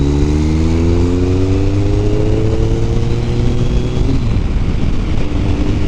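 Kawasaki GTR 1400 motorcycle engine heard while riding, a loud, steady drone whose tone climbs through the gears with a shift partway through, under a constant rush of wind, with no talk.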